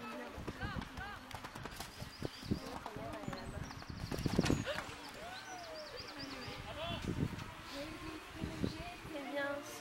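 Horse hooves clip-clopping at a steady trot, moderately close, with a brief whinny and people talking in the background, at an equestrian jumping competition.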